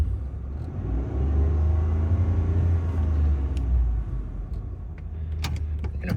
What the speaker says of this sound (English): We're going to rev it in park a little.